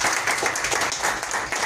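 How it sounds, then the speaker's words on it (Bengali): Audience clapping at a championship prize presentation, a dense, steady wash of many hands that holds at an even level throughout, with no voices rising above it. "সবাই একটা জোরে হাততালি দিয়ে"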